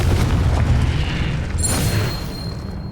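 A Confringo blasting spell explodes during a Hogwarts Legacy boss fight on a trials quest. It gives one loud, close, booming blast, and a broad rumbling tail fades over a few seconds.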